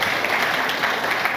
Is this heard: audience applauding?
yes